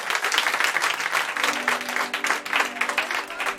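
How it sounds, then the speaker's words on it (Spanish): A studio audience claps for a magician in a sustained, even burst of applause that holds at moderate level throughout. "un aplauso para David Diamond"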